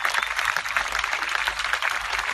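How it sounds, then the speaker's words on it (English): A crowd's round of applause honouring elders at an outdoor Aboriginal community event, steady dense clapping from many hands throughout, moderately close and without talk. "I think we need a round of applause to honour our old people now."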